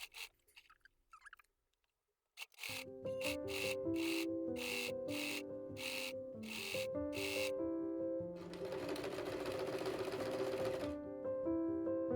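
A sewing machine stitching a seam on a midi-length dress with a pleated collar: a short burst, a pause, then a long, loud, steady mechanical whir with rhythmic needle clatter, close up and with no talking.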